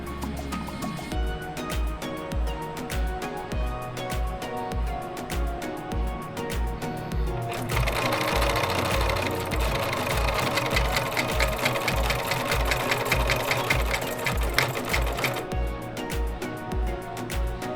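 A sewing machine stitches fabric with a steady, rapid mechanical chatter, close and loud, speeding up into a denser, busier run through the middle before settling back to its earlier pace.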